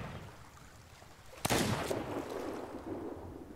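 A single gunshot fired in the pirate video game Sea of Thieves, with a sharp crack and a short echoing tail over steady background noise.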